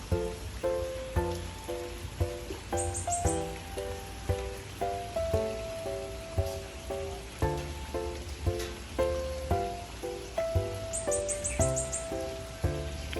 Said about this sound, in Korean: 오늘은 비가 이렇게 진짜 쭉 내리네요